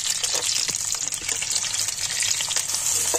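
Thin-sliced onions fry in a mix of oil and ghee for a degi korma, giving a steady, close, loud sizzling hiss with faint bubbling and no voices throughout.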